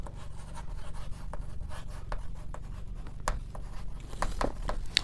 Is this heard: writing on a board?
yes